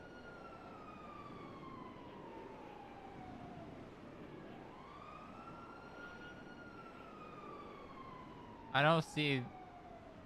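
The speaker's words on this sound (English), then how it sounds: "Follow the siren." A police siren wails in a GTA V roleplay game, a slow rising and falling tone heard at a distance and moderately faint throughout, with a brief burst of siren or horn near the end and a voice speaking briefly over it.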